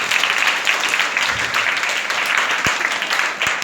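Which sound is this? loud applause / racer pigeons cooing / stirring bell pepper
loud applause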